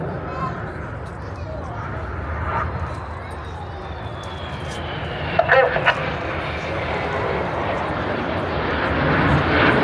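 Red Arrows display jets flying at an airshow in Blackpool, a distant broad roar that swells toward the end, under a commentator's voice over loudspeakers.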